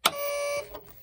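The power switch on a Zentec 9003 programmable terminal gives a sharp click, followed at once by a steady tonal hum or whine as the unit turns on. The hum holds for about half a second, then drops away.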